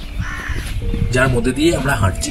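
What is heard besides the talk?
crow cawing in the forest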